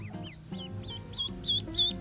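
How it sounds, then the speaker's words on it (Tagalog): A Muscovy duck gives repeated high, thin, whistly calls at a quick rhythm, growing louder, with low farmyard murmur underneath. "matinis yung huni ng pato"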